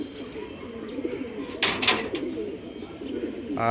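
Pigeons in a partitioned rooftop loft coo softly in the background, a low rolling murmur, with a brief burst of nearby rustling or wing movement midway and a short chirp near the end.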